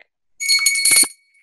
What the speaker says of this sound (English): And thank you for the bell, Maureen.